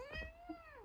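A single drawn-out cat meow, clear and fairly close, rising slightly then falling, with a soft bump in the background.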